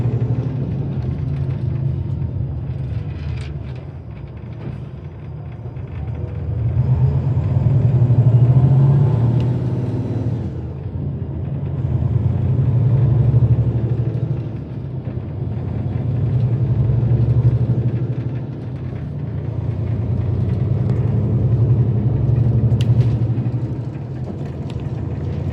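A TransWA coach's engine drones on the Southwestern Highway, a low rumbling hum that swells and eases in long waves as the bus travels, heard from on board without talk.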